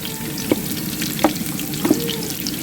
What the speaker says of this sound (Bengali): পোলাওটা বসানো হচ্ছে এই কিছুটা ঘি দিয়ে দেওয়া হলো